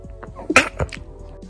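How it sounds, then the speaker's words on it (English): A single sharp, close human sneeze bursts out midway, followed by a brief breathy aftersound and faint room noise. "I think that just made me sneeze there."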